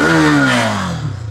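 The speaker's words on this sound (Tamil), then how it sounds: "ஸோ ஃபஸ்ட்டு எக்ஸாஸ்ட் நோட்டை பார்ப்போம்." A 249cc, 30 bhp sports motorcycle's exhaust note falls after a sharp rev, a loud, close engine tone dropping in pitch over about a second, with no talking.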